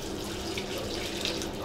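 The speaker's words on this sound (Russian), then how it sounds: "Это сейчас горячей воды добавляется." Hot water pouring steadily into a large cauldron of Uzbek plov, a continuous splashing rush at moderate level with no talk.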